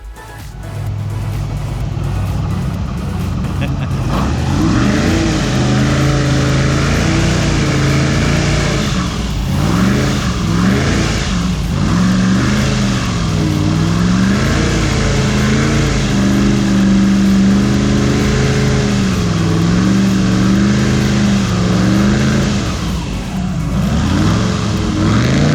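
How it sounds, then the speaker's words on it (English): Airboats on a Florida river roar continuously, their engines swelling and easing in pitch as they rev nearby. "It is a popular place for airboats,"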